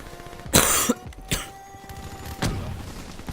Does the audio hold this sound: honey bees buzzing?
no